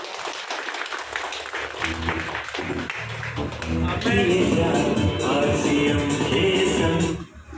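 At an RCM seminar in Vasco da Gama, Goa, the audience claps, starting as scattered hand claps and swelling into loud, sustained applause from a crowd before cutting off.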